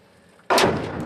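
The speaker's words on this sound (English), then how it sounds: "That was the sound of artillery landing just next to our car" An artillery shell lands just beside an armored car in Kupiansk: quiet at first, then a sudden loud, close blast that booms and rolls off into a decaying rumble.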